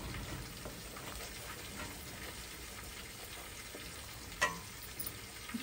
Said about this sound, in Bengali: আর একটু ভাজবো